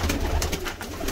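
Pigeons cooing in a loft while a red-tailed pigeon is handled, a soft low murmur running steadily under close outdoor background noise.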